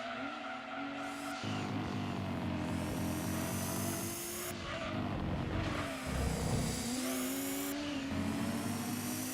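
Race car engines in Gran Turismo 2 whine and rev loudly throughout, with rising pitch sweeps on upshifts and a car being held up behind an Audi, while tire squeal and skidding mix into the constant roar.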